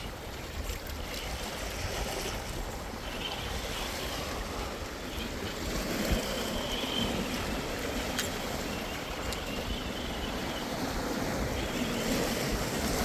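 Sea waves break continuously against a rocky shore, a dense steady roar of surf and spray with wind buffeting the microphone throughout.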